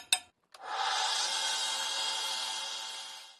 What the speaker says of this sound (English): Now that this epoxy is cured, I can run it down on my belt sander here.